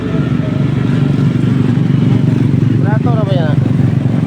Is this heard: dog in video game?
no